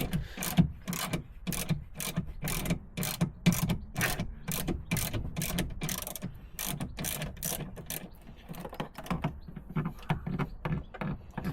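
A ratchet tightens a fastener on the rear plastic trim of a Volvo XC70, with rapid close clicking in steady bursts that slows slightly toward the end, alone and without voices.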